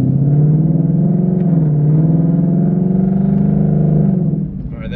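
A supercharged 2019 Mustang fitted with a VMP Odin supercharger and a smaller pulley drives off, its loud, close engine holding a deep rumbling drone that rises and falls slightly before easing at the end.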